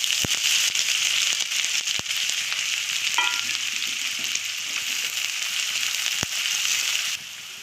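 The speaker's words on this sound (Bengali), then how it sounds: "তেল গরম হয়ে গেছে, আমি পেঁয়াজ দিচ্ছি" Chopped onions fry in hot oil in a pan with a steady, loud sizzle and crackle that keeps going without a break, broken by a few sharp utensil clicks against the pan.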